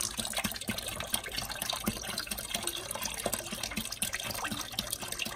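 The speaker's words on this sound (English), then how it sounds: "You want to get this broth in there." Broth poured into a turkey brine, a continuous splashing, gurgling stream of liquid filling a container, close and fairly loud throughout, with no speech.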